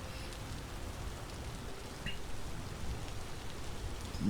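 Steady rain falling in the Vintage Story video game, a continuous soft hiss of drops on surfaces with no voices.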